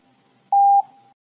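Morse code letter T sounded as a single long dash: one steady, loud electronic tone of about a quarter second, standing alone with a faint hum before and after.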